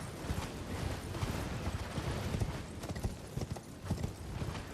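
Horse riding in Elden Ring, a rapid rhythmic clip-clop of galloping hooves, close and steady throughout with no talk.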